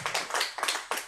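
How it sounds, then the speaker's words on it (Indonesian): Applause for poet Tarmizi at a book discussion, a short burst of hand clapping from a small audience, close and moderately loud, no voices. "Tepuk tangan sekali lagi untuk Pak Tarmizi."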